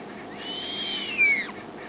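An eagle owl gives a drawn-out, wavering high call with a sharp rising-then-falling squeal near the end, alone and fairly close.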